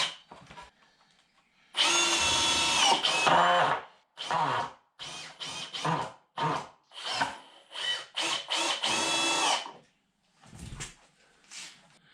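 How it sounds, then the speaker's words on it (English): A power drill drives 3-inch screws into the wooden frame of an elevated deer blind, with several loud, close bursts of whirring and biting into wood separated by short pauses. "I'm using these 3-inch screws to join this thing together"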